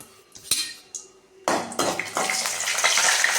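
Dried red chillies hit hot oil in a pan, a few sharp metallic clinks of utensils giving way to a steady hiss and crackle of frying that builds and continues close up.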